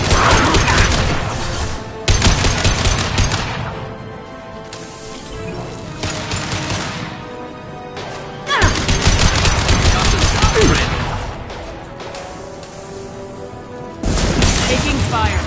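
Bursts of gunfire from the Mass Effect 2 video game (Legendary Edition) fill the scene, rapid automatic volleys in several loud waves separated by brief lulls, with booms and mechanical clatter mixed in.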